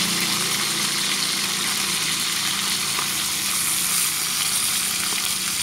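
Fermented fish fries in a pan of hot oil, giving a steady, dense sizzle that crackles continuously and evenly throughout, close by, with no talking.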